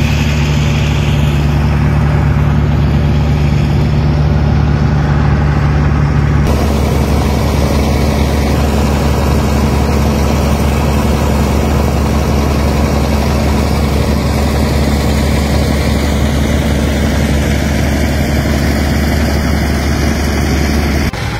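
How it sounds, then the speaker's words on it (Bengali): A dredger machine's engine drones loud and steady while pumping sand onto an embankment of the Jamuna River in west Tangail, a continuous low rumble that shifts slightly in tone partway through. "প্রিয় বন্ধুরা, দেখতে পারতেছেন ড্রেজার মেশিন দিয়ে এই জায়গাটায় বালি ফেলা হচ্ছে।"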